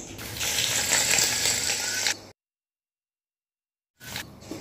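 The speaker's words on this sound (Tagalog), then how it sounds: "habang piniprito natin yung tokwa" Tofu frying in a wok gives a busy hissing sizzle, cut off abruptly by a stretch of silence, then resuming briefly at the end.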